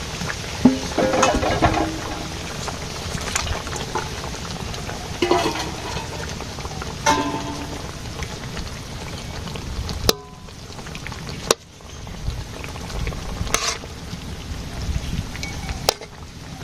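Garam masala paste and fish frying together in a pan for a village-style fish curry with potato, cauliflower and tomato. A steady broad sizzle runs throughout, broken by scattered scraping and clattering stirs, with a few sharp knocks late on.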